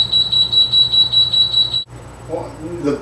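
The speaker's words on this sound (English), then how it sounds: "The blender's beeping?" A blender beeps in a rapid, steady series of high-pitched tones, then stops; faint voices follow.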